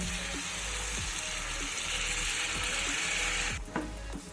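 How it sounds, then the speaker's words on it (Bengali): Hot water poured into a pan of fish head and Gobindobhog rice curry for muri ghonto. A loud steady sizzle and rush hold, then cut off near the end, followed by a few clinks. "এবার আমি এতে দিয়ে দেব গরম জল এতে কিন্তু অবশ্যই গরম জল ইউজ করতে হবে"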